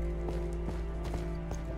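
Horse hooves clip-clopping in Minecraft, a steady run of soft hoof clicks over a constant game background hum, with a faint neigh-like tone.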